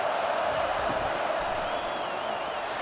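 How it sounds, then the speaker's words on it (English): Football stadium crowd cheering at a North Carolina Tar Heels versus Clemson Tigers college game, a steady roar of distant massed voices with faint whoops rising out of it, and no distinct talk over it. "This crowd bringing the energy and noise early."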